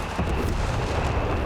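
Massive artillery strikes in Company of Heroes 3, a loud, rumbling barrage of overlapping explosions that hits hard and keeps booming without pause through the brief moment.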